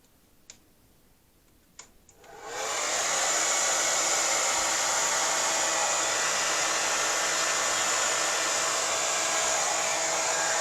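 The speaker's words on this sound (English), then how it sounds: "I'm going to put the hair dryer on, so you might want to hit mute." A hair dryer drying a gel plate print switches on after a couple of soft clicks, then roars steadily and loudly at close range without pause.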